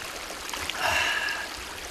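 Cold water from a mountain stream in Mongolia flows and trickles in a steady, faint wash, with a brief brighter splash near the middle.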